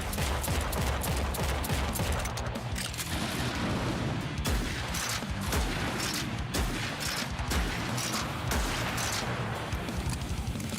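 Gunfire in the shooter game Project Warlock 2 rattles in fast, continuous volleys mixed with heavier booms and mechanical clatter, loud and close throughout a boss fight.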